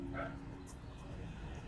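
Several dogs bark and yip faintly in the background at home, a few short bursts under background music and a speaking voice.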